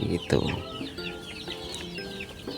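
Native village chickens, kept as young chicks, cluck in a short burst of overlapping calls, fairly close and moderately loud, with a few sharper squawks early on and softer clucking continuing throughout.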